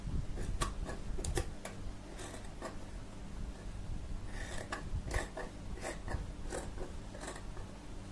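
Scissors cut through fabric for a corset bodice, with a series of close, crisp snipping clicks in uneven bursts against a low background rumble.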